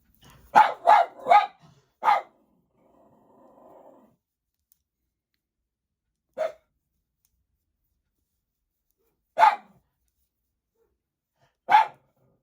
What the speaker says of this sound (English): but my dogs are barking.